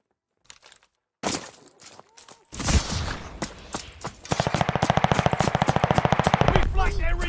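Rapid automatic gunfire in a multiplayer shooter, fired to take down an enemy recon drone, starts with scattered shots and builds into a loud, sustained stream of bursts that continues to the end.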